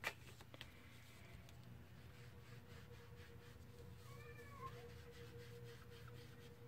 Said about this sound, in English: Another crying cat.